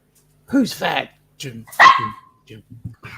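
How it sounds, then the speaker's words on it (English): A pet dog gives several sharp barks close by, mixed with people talking during a cruise food review. "That was our dog, but not me."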